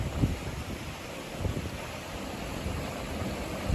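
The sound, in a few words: wind blowing at a coastal spot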